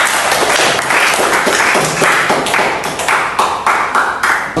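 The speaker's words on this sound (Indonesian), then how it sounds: "Tepuk tangan untuk kelompok 1." Students applauding in a classroom after a group's presentation: dense, close clapping from a small group that keeps a steady, loud patter for several seconds, no one talking over it.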